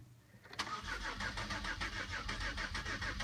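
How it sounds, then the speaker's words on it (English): A 2002 Buick Century with the 3.1 engine cranks steadily without firing, the starter's rhythmic chugging continuing loud and close after a click. "Just spins over, will not fire."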